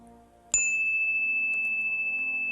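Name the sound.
bell ringing and fading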